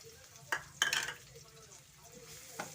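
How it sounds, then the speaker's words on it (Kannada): Onions and garlic fried in hot oil, stirred with a utensil that scrapes and clinks against the pan in a few short bursts over a faint sizzle, close and fairly quiet. "ಚೆನ್ನಾಗಿ ಫ್ರೈ ಮಾಡೋಣ. ನೀಟಾಗಿ ಸಾಫ್ಟ್ ಆಗೋವರೆಗೂ ಫ್ರೈ ಮಾಡೋಣ."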